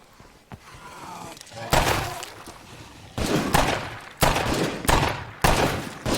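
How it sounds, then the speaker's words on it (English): Heavy revolver shots boom in the zombie survival game State of Decay 2, about five loud cracks spaced irregularly with decaying tails, separated by quieter stretches of handling and reload clicks. "Sounds like a small cannon. Probably takes forever to reload being a revolver."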